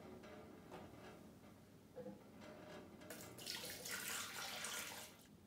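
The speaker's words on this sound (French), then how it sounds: "Donc je vais remettre 300 g d'eau froide." Cold water poured into a pan of syrup while making a pineapple and avocado smoothie, a steady rushing splash that swells louder midway through and then eases, with no talking.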